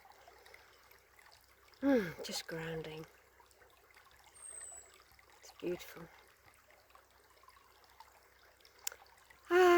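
A brook beside hazel trees flows with a soft, steady trickle while a person sits with their feet in the water. A voice speaks quietly in brief moments over the water.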